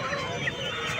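A rooster clucks amid the dense, constant noise of a busy outdoor chicken market crowd in Vadalur, India.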